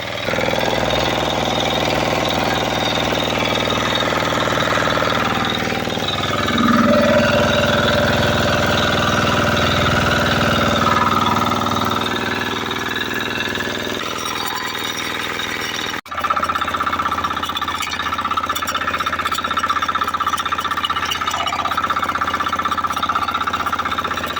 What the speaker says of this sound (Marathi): तर मित्रांनो ट्रॅक्टर चालू केलं आहे.